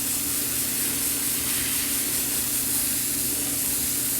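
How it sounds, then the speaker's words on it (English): An airbrush sprays Badger Stynylrez primer onto a scale model, giving a steady, unbroken hiss that stays loud and close throughout, with no talking. "I'm going to get a little thicker spray pattern in there."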